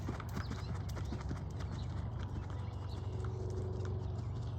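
A horse's hooves clip-clop steadily as it is ridden on a circle in an arena during a clinic, giving an even, close rhythmic beat of footfalls with no talk heard.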